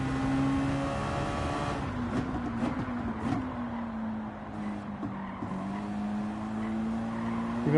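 Race car in Gran Turismo 7 held at a steady engine note with downshifts and bursts of tire squeal and skidding through corners, loud and continuous throughout, with no voices.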